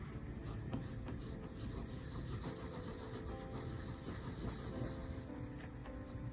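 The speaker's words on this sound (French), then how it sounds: "C'est très agréable en fait de dessiner avec un crayon comme ça." Soft, oily colored pencil drawn across paper, close and steady, giving a continuous waxy scratching and rubbing texture with short repeated strokes and no voices.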